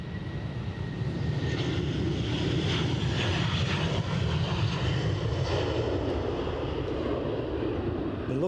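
Jet2 airliner taking off from Edinburgh, rotating off the runway on what seems a positioning flight; a sustained, loud jet engine roar with steady rumble and some wind noise on the microphone.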